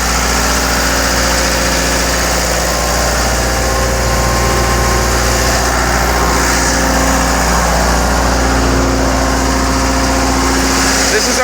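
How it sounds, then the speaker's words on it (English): A Putzmeister TK40 concrete pump engine runs loudly and steadily nearby on a jobsite, a constant droning hum with mechanical vibration, speech faintly mixed under it. "I'm going to show you the pump running right now"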